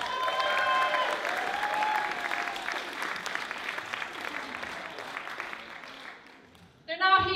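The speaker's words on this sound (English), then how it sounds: "massive, huge round of applause" Audience at a 2022 live talent show breaks into sustained applause with crowd noise and some cheering, fading gradually before a voice briefly cuts in at the end.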